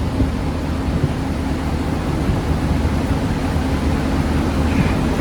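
A car engine accelerating, part of a test comparing an interchiller with a heat exchanger: a steady, loud, dense roar that holds throughout, close up, with no speech.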